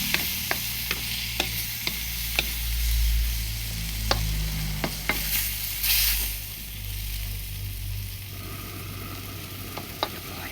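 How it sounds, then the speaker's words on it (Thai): Stock poured into a hot wok stir-fry of sponge gourd, egg and pork, giving a steady loud sizzle and hiss, with regular sharp taps of a spatula against the pan. "น้ำสต๊อกหน่อยนึงครับ"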